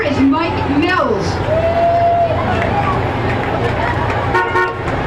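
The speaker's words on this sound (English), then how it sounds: "It's a fire truck, totally different than anything we've seen." A U.S. Army Pierce fire truck rolls past in a Labor Day parade, sounding loud horn toots over vehicle rumble and crowd chatter close by.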